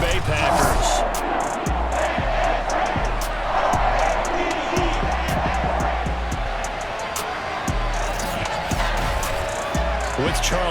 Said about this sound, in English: The two teams emerging from their respective tunnels a minute ago to the approval of this Baltimore crowd.